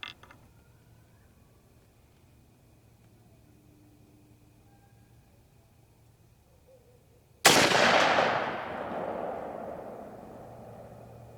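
A 45-70 Government rifle fires a single Hornady 350 grain round: after several seconds of near silence, one sharp, loud crack bursts out and decays into a long, rolling outdoor echo.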